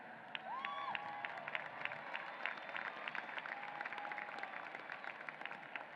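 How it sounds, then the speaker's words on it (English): Distant crowd applause at a commencement ceremony, steady clapping with faint cheering and a whistle early on, heard fairly faintly. "Stop and applaud for that."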